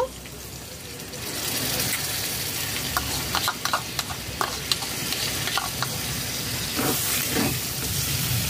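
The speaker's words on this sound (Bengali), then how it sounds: "ফেটানো টক দই দিয়ে দেব।" Whisked sour yogurt goes into a hot pan for a dahi chicken curry and sizzles loudly and steadily, with a few sharp clicks and taps of stirring over the continuous frying hiss.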